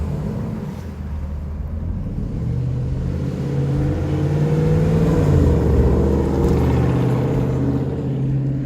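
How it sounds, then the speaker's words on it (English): A loud car passing on a suburban street near Atlanta, Georgia, its engine rumbling and revving up, growing louder and holding a deep steady roar before easing slightly. "It's a loud car to the left."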